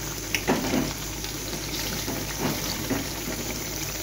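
Ghee frying with fenugreek seeds in a pan, a soft steady sizzle and bubbling hiss close by, with a few faint clicks and no talking.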